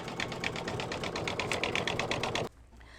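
An embroidery machine sews satin stitch around tulip leaves, a steady rapid rhythmic needle chatter that runs close and loud for a couple of seconds before stopping abruptly, leaving quiet room tone.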